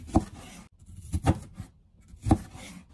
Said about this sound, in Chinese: 把洋葱改刀切成小片